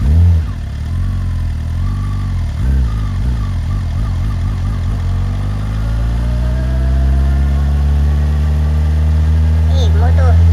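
A motorcycle engine idles with a low, steady rumble close by while people talk over it. Its pitch rises gently later on.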